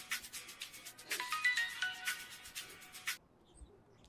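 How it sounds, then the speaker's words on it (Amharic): A phone ringtone rings in repeated bursts for about three seconds, fairly close and clear in a quiet indoor room, then stops abruptly. "ስልክ እየጠራ ነው።"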